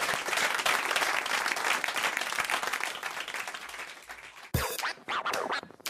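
Studio audience applause on a French radio show, dense and loud clapping for several seconds that breaks off abruptly, followed by a brief burst of sharper handling noise and scattered claps.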